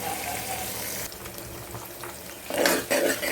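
Onion pieces fry in oil for a mutton curry, a steady, moderately loud sizzle that holds throughout and swells with a burst of crackling near the end.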